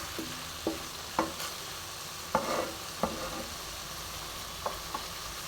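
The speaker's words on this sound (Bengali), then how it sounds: "এবারে আমি ভালো করে কষে নেবো মশলার সাথে।" Chicken with panch phoron spices is stir-fried in a pan, a soft continuous sizzle punctuated by irregular clacks and scrapes of a spatula against the pan, quiet and close, with no speech.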